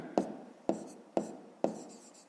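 A pen writing numbers while a fifth-grade maths exercise on metres and centimetres is worked out, four short scratchy strokes at an even pace, close and quiet, with no voice.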